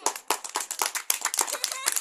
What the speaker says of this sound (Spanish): Un aplauso para Cristo